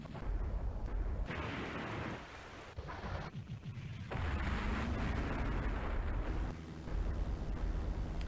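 Rumbling destruction in the Progear arcade shoot-'em-up as the ceiling collapses and a floating island crashes down, continuous heavy booms and crashing noise lasting several seconds with rising and falling surges, loud and dense, no voices.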